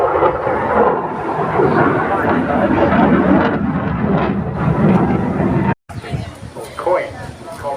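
A military aircraft climbs vertically away from an air show, a loud, continuous broadband roar that cuts off abruptly near the end, with a voice audible over the noise.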